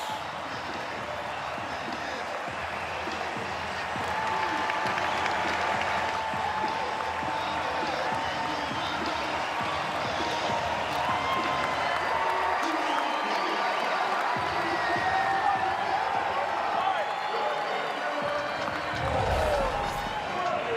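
Ballpark crowd at a Padres home game in San Diego roaring after a Bogaerts home run, a sustained loud cheer that carries on for many seconds, with a sharp clatter near the end.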